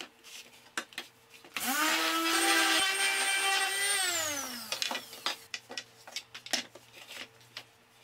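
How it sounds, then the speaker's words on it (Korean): A painted wooden mirror frame being sanded with a power tool, whose motor whirs up, holds a steady whine for about three seconds and winds down, followed by scattered light taps and scrapes. "도색이 건조된 후 사포 작업을 하면 나뭇결이 살아납니다."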